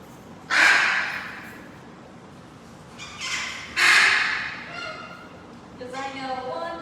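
Pet birds in a room give two loud, harsh squawks a few seconds apart, then softer chirping calls, close by with breathy sounds between them.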